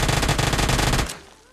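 An Uzi submachine gun in PUBG fires a loud, rapid full-auto burst for about a second before cutting off into a short fading echo.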